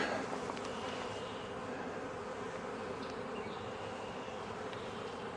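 Dense, steady buzzing of many honeybees close by at a hive, a continuous swarming drone with no pauses.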